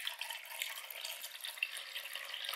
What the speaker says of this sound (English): I'm just going to cover with water.